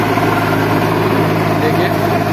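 A small tractor ploughing a field of tall dhaincha green manure, a steady loud diesel drone with a low throbbing hum, close and continuous throughout.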